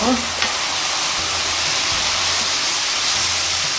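Fish cake stir-fries in a hot pan with a constant loud sizzling hiss and occasional faint stirring scrapes, with no voice over it.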